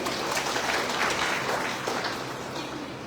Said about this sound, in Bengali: আমরা সবাই হাততালি দিই ওদের জন্য